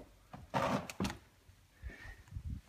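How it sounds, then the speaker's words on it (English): A plastic door panel is lifted off the door of a 1994-2004 Ford Mustang, making two close, loud rattling scrapes followed by softer knocks and shuffling. "So once we're at this point, we can just lift directly up on the door panel."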